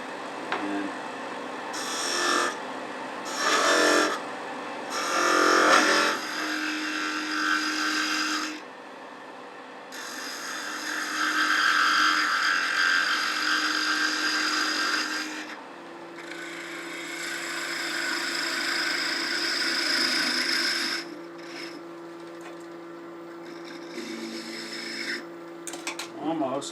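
A tool cuts a taper into spinning wood on a lathe, producing intermittent scraping and rasping passes that rise and fall in loudness, with pauses and steady motor hum between them, and someone talks at times.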